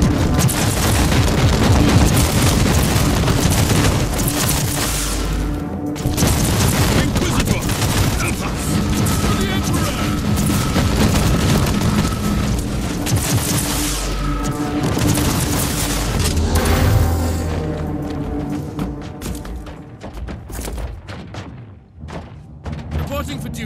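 Heavy gunfire and booming explosions from Warhammer 40k Inquisitor Martyr, dense and loud throughout with thudding blasts, easing toward the end, while a voice speaks over the battle.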